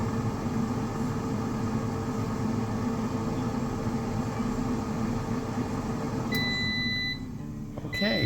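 An air fryer cooking sweet potato fries drones with a steady mechanical whir at an even level for several seconds, then a pair of electronic beeps sound before the hum cuts off.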